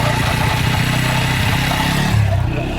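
A TVS motorcycle with a crank section fault runs close by, its engine rumbling loudly with a rough, uneven knock throughout and a brief rise in revs near the end.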